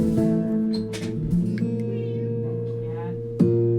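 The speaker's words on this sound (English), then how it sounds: "The cat is yelling." A cat yells with a few loud, drawn-out meows over a steady electronic game soundtrack from Terraria, with sustained tones running through the clip.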